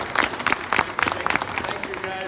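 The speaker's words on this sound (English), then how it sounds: "So big round of applause for Bob." Audience clapping for the presenter of a referee development session, a brief burst of individual claps from a modest group, fairly close, with faint talk underneath.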